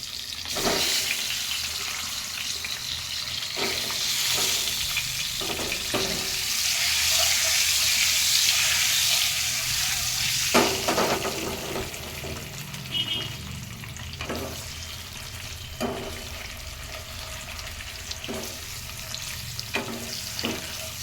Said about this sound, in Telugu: కారం కొంచెం ఘాట్లు పెట్టుకున్న ఎగ్స్ ఫ్రై చేసుకున్నాము